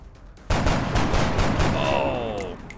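A loud burst of alien enemy gunfire in XCOM Enemy Within erupts suddenly after a quiet moment: rapid, evenly spaced shots ring out close up, followed by a whining electronic tone as the volley trails off.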